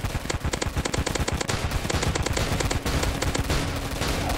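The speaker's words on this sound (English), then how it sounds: "now let's shoot this mega tank" The rainbow blaster in Roblox Zombie Attack fires at a mega tank in fast, rhythmic volleys of repeated shots, sustained and loud throughout, with a steady tone humming underneath.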